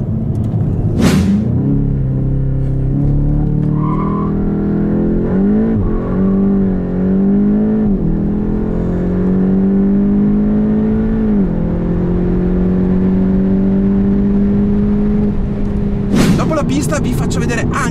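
A 2019 Volkswagen Golf GTI TCR with 290 hp cruising on the motorway, its steady engine drone and road rumble holding a constant pitch with a brief rise in the middle, loud and close throughout.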